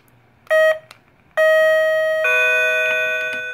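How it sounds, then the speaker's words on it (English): Older Heath Zenith remote doorbell chiming: a short electronic tone, then a longer two-note ding-dong that rings on clearly in a quiet room. "And then over here is an older Heath Zenith remote doorbell."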